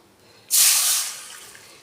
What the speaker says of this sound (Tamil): இதில் ஒரு கப் அளவுக்கு தண்ணி ஊற்றுறேன்